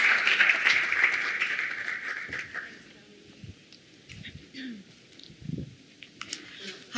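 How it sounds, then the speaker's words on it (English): An audience at a conference session giving a round of applause, a burst of clapping that fades out after a few seconds, followed by scattered clicks and faint stirring. "Let's give them a big round of applause,"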